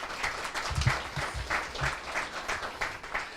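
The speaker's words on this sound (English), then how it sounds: "Seriously, give yourselves a round of applause." An audience at a black-tie gala applauds, a dense wash of clapping from many hands, steady and moderately loud with a few closer claps standing out, and no voices over it.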